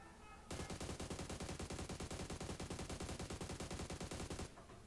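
Automatic rifle sprayed in continuous full-auto fire while crouching in PUBG Mobile, a rapid, even stream of loud gunshots lasting about four seconds after a short quiet lead-in, with no talking.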